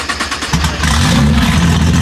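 A Nissan GT-R with an open downpipe at a large car meet revs loudly and close, a rough engine roar swelling after a brief lower rumble and holding steady.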